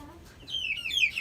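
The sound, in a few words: chicken clucking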